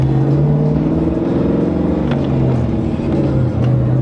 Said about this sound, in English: I love how Mustangs sound.